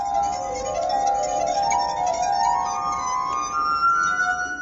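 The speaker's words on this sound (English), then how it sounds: "he found his instrument, the glass harp, which he's been playing for over 20 years" A street performer plays a glass harp made of glasses, producing layered, sustained ringing tones that hold and shift smoothly in pitch, clear and close with no talking.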